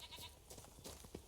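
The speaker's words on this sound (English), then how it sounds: "Is that a goat? It is a goat." Goats in The Witcher 3 game world, a few short bleats rising over steady ambient background noise, fairly faint and brief.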